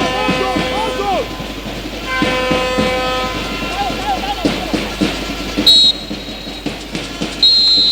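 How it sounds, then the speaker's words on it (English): A referee's whistle ends the first half of a Nigerian Women Football League match between Edo Queens and Pacesetters Queens, giving a couple of short, shrill blasts over a dense stadium crowd full of horns and chanting. "And there goes the whistle to signify the end of the first half."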